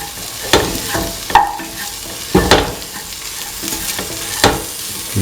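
Garam masala being stirred into ivy gourd and peas frying in a pan, with a steady sizzle under several distinct scraping stirs at uneven intervals, close and moderately loud.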